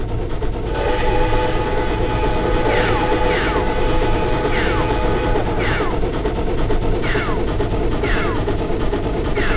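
Steam locomotive in a train simulator video game, running with a steady low rumble and a repeating series of sharp, hissing chuffs, loud and close with no voices.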